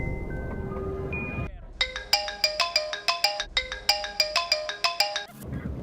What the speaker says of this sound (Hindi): पापा का फोन आ रहा है पर फोन चार्ज नहीं है।